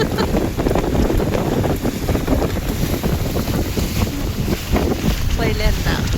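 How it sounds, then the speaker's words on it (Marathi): MTDC tourist boat cruising on open water, with steady loud wind buffeting the microphone, water rush and engine rumble throughout and faint voices in the background. "हा बघा मस्त बोटिंग चालू आहे."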